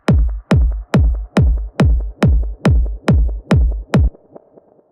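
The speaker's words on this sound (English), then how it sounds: "Now if you combine this with a hybrid reverb," A rumble kick with echo combined with a short spring-style hybrid reverb pounds out about ten evenly spaced, booming hits, each trailing a shimmering reverb wash, loud and alone before a fading tail.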